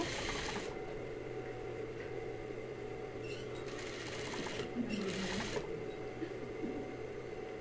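A sewing machine stitching the handle of a fabric tote bag, a steady close mechanical whir that pauses briefly, with someone speaking over it.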